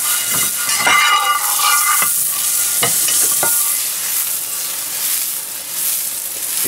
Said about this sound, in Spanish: lo que voy a hacer es derretir un poquito la mantequilla